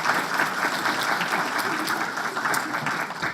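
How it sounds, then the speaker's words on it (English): Sustained applause from an audience at a university panel discussion on drug discovery, a dense, loud clapping that fills the room without any talking. "Perhaps we can give them a round of applause"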